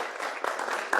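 An audience at an academic AI conference session starts applauding a speaker named Sabine, a brief burst of mixed clapping from a crowd, moderately loud.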